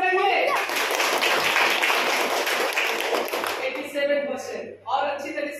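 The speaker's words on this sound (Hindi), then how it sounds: "ताली बजाइए।" Schoolchildren at a government school clap for a classmate whose result has just been announced as first in the third class. A lively round of clapping lasts about four seconds, and then voices talk as it tapers off.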